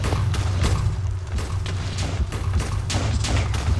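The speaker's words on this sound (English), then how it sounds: "he's gonna use another explosion" A mutant creature in Minecraft lets off explosions: a dense run of deep, rumbling booms and sharp cracking bursts that repeat throughout, loud and continuous, with no talking.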